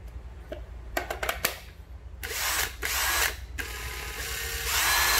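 A National 103 cordless power drill, a Japanese-market battery tool, whirs loudly in sustained bursts after a few short clicks and clunks, running steadily near the listener with no talk over it.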